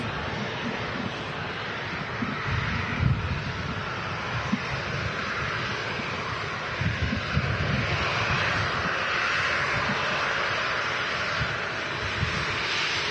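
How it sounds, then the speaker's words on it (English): A Ryanair Boeing 737-800 at Manchester Airport gives a loud, continuous jet engine roar with broadband rushing and wind buffeting, held steady and close for the whole stretch, with no talking. "Ryanair 737-800 making an appearance here."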